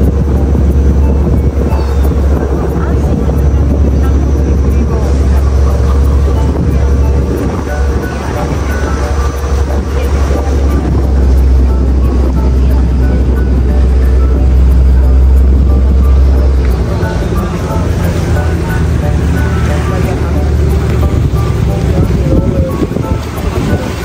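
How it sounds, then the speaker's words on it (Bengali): A motorboat cruises the canals of Venice, Italy, its engine drone blending with splashing water and heavy wind buffeting, loud and steady throughout, with voices talking now and then. "ট্রলার"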